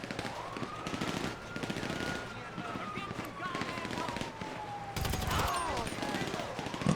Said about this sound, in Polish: Skąd do, do mnie strzela?